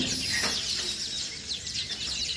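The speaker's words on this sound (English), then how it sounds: "Here are wild birds." Wild birds nesting in a colony among palm trees give off a steady mix of high chirps and calls, several birds overlapping at moderate distance with no voices present.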